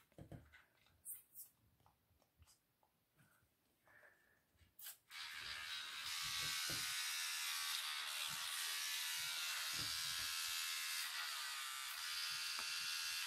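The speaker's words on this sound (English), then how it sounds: "You put the toothbrush on." An electric toothbrush switches on partway through and then hums steadily and continuously at close range, following a few soft handling taps and knocks at the start.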